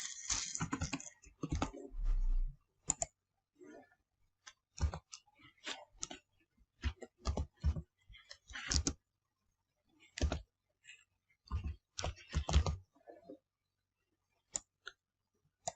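Computer mouse clicks tap out in irregular clusters, with single crisp clicks and quick runs separated by silent pauses, close and fairly quiet.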